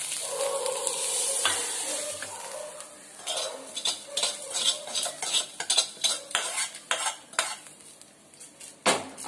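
Eggs being stir-fried in a kadhai for an egg curry masala, with a soft sizzle and a spatula scraping the pan in a quickening series of close, rhythmic strokes.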